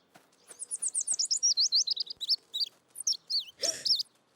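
A baby bird chirps in a cartoon, a rapid run of high, bright tweets followed by a few separated chirps and one rougher call, close and clear with no talking.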